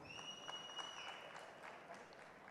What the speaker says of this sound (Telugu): so big round of applause for Chandy